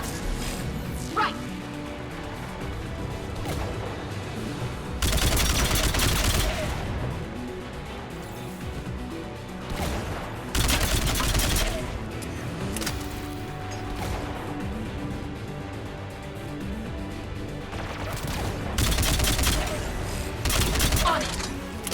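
A gun turret in the video game Mass Effect 3 fires loud, repeated bursts of gunfire at a steady rhythm, with a few sharp impacts and occasional voices among the shots.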